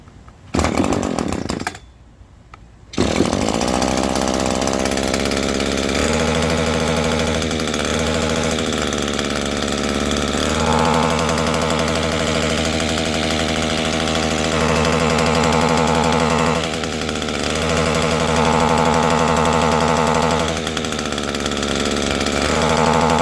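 A small Echo stick edger engine starts after a brief rough attempt, then runs loudly and steadily with a buzzing, chainsaw-like drone that repeatedly wavers and bogs down in pitch.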